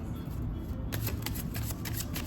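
A deck of tarot cards being shuffled by hand, a steady run of soft papery riffles and slaps close by with no talking.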